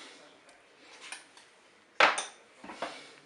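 Tomato concentrate stirred in a Cookeo cooker pot, a few close metallic scrapes and clinks of a utensil against the pot, one sharper knock standing out among lighter taps, with no talking.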